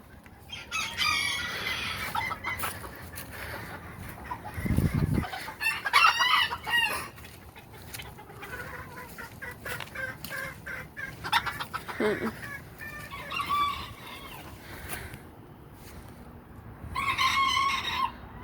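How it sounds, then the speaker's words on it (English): Rooster crowing several times at varying distances with hens clucking in between, a bird calling now and then, outdoors on a farm while someone films moving around; no talk. "Chicken down there."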